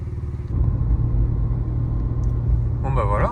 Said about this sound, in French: Elle tourne bien sur ces 3 cylindres